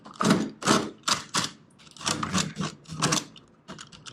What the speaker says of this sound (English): I gouge it out.